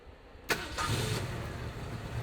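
Classic Ford Mustang V8 cranking over and catching, a sharp start at half a second followed by a settling, rumbling idle, fairly close with no talk.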